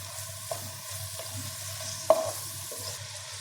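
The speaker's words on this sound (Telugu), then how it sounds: "ఇప్పుడు ఈ ఆనియన్ ఒక 5 మినిట్స్ ఫ్రై అవ్వాలి." Onions frying quietly in a pan for a gongura chicken curry, a soft steady sizzle with occasional stirring clinks and one sharper utensil tap, no voices.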